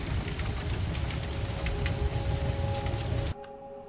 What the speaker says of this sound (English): these fires sound like they're not going out